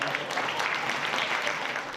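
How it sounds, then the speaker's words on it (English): Lawmakers at a Legislative Council luncheon in Hong Kong clap for the arriving Liaison Office director, a dense, steady round of applause from a roomful of people that continues without pause. "he was welcomed with a big round of applause"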